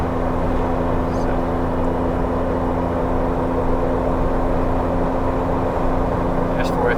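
Supercharged Jeep Wrangler JK Unlimited (RIPP Gen II Stage II) accelerating in 4th gear on a mountain road, a steady loud drone with a low whine that holds throughout, while someone talks over it.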